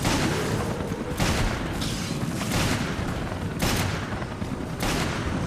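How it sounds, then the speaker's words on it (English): Pulse grenade explosions in Resident Evil Revelations raid mode, several loud bursting blasts at irregular intervals amid constant gunfire and combat noise. "Now I'm using my pulse grenades."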